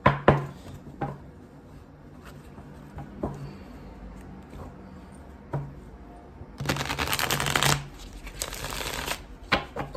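A deck of tarot cards being shuffled up close, with repeated riffling bursts and soft taps, the longest and loudest flurry coming late; no talking.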